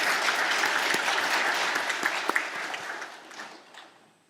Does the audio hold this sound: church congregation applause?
yes